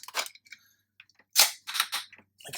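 Plastic clicks and snaps from the cannons of a Hasbro Titans Return Trypticon Transformers toy being collapsed, a few sharp close clicks followed by louder ratcheting bursts with pauses between.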